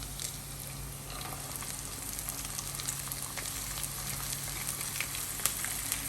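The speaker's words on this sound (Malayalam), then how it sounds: "സവോള ചേർത്ത് കൊടുക്കാം." Chopped onions fry in a pan for a chicken cutlet filling, giving a continuous quiet sizzle and crackle with a few sharper pops near the end and no voices.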